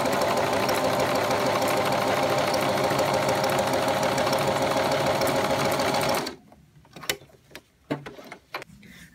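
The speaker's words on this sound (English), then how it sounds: "so we can just start to sew." A domestic sewing machine with an overcast presser foot runs fast and continuously, stitching an overcast edge with a dense, steady mechanical whir for about six seconds, then stops, leaving a few soft clicks and handling noises.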